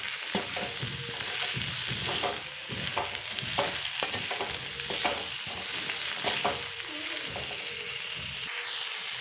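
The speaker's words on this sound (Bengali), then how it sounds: "সামান্য নুন দিচ্ছি স্বাদ মতন, দিয়ে 1 মিনিট নাড়বো আলুগুলো।" Potatoes are stirred and fried in a pan for a potato korma curry, with a steady close sizzle broken by repeated scraping stirs throughout, no talking.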